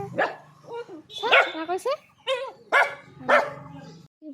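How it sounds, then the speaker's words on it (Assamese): A dog barks several times at close range, sharp repeated calls in quick bursts, with a person talking over and between them. "ভুকিছিলে"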